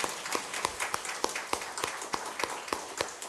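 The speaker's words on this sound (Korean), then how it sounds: "박수로 환영해 주시기 바랍니다" A church congregation claps during a Sunday worship service, a fairly quiet, steady rhythmic patter of hand claps with individual sharp claps standing out at a regular pace.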